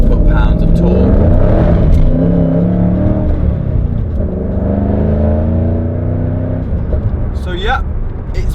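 Ford Shelby GT500 with a 5.4-litre V8 accelerating hard at full throttle, a loud, steady engine roar throughout that rises in pitch, with a brief voice near the end.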